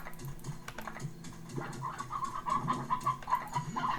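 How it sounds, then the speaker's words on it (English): Chickens in the video game Slime Rancher cluck and squawk in short repeated bursts, with mouse clicks and game noises underneath. "Successful chicken gathering."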